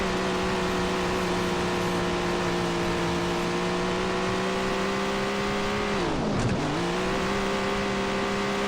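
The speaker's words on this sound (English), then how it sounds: "I'm driving with the pedal down, so we're going loud." A dirt track race car engine roars steadily at full throttle, loud and sustained, its pitch dipping briefly near the end before climbing back.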